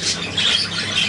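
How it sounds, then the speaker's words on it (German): A pet bird squawks in harsh, raspy, continuous calls, loud and close, with no one speaking over it. "da ist noch ein Maxi-Vogel"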